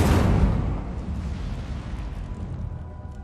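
An Incendio fire spell bursts in Hogwarts Legacy, a loud whooshing blast of flame at the start that rolls into a fading, rumbling roar over a few seconds.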